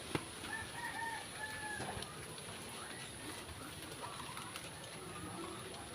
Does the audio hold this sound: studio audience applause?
no